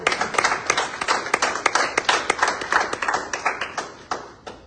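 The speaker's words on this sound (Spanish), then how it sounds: "Denle un aplauso al Señor." A church congregation claps together during a Spanish-language service, producing loud, close, rhythmic bursts of hand claps that keep a steady beat with no talking over them.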